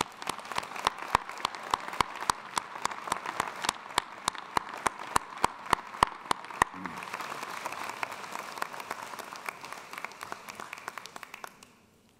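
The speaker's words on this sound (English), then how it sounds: "So can we please give all of them a warm round of applause?" Audience applause at a 2022 College of Arts and Sciences commencement ceremony, a steady wash of clapping with sharp loud claps punctuating the first half, then thinning into scattered lighter clapping as it dies down.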